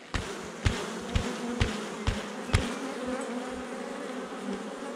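Honeybees buzz in a busy swarm, a steady droning hum, punctuated by several sharp knocks or bumps close by.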